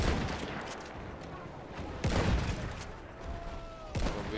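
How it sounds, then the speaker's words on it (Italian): Cannon fire in the video game Battlefield 1 booms in dense bursts over continuous battlefield gunfire and rumble, loud and heavy, with two sharp blasts standing out. "Col cannone."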